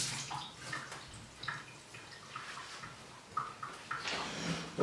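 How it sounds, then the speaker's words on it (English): Water runs from a kitchen tap during hand washing while baking homemade Oreo biscuits, a faint, uneven splashing and trickling with small clinks, close by and without talk. "wash my hands quickly."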